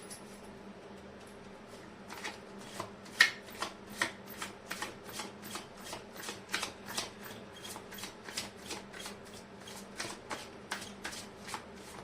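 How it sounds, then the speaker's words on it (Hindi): Tarot cards are shuffled steadily, a long run of rapid crisp riffles and soft slaps at an even pace, close and fairly quiet. "कर लेते हैं कार्ड की शफलिंग।"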